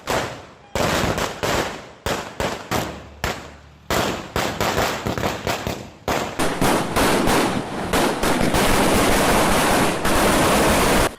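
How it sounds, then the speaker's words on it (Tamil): Firecrackers set off by party supporters celebrating in Vavuniya, Sri Lanka, crackling in long rapid bursts of sharp pops close by, with brief gaps early on before a dense, continuous barrage fills the rest. "கட்சியின் ஆதரவாளர்கள் வவுனியாவில் பட்டாசு குளித்து இவ்வாறு மகிழ்ச்சியை வெளிப்படுத்தினர்"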